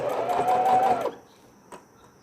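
Sewing machine stitching folded rib fabric onto the legs of newborn baby underwear, a steady whirring run for about a second, then it stops, followed by a faint click.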